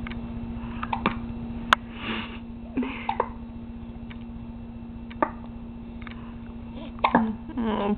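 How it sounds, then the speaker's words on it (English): A baby girl with recurring hiccups gives several short, soft hiccups at irregular intervals, close and quiet over a steady low electrical hum, with small breathy sniffles in between. "Having the hiccups again."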